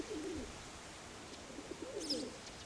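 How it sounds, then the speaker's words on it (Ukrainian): Soft, low cooing from a female pigeon surfaces twice against steady background noise, with a brief higher chirp near the end. "Це 15-та голубка."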